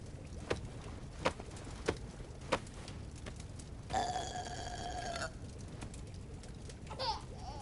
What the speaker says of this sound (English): time for a burping